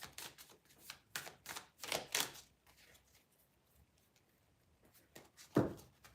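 Tarot cards shuffled in a series of quick riffling bursts, several papery flurries in the first half, then a quiet stretch and one last firm tap near the end.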